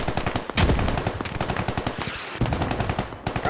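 Rapid automatic gunfire in the military shooter Squad, loud close bursts of evenly spaced shots running almost continuously with brief gaps, no voices.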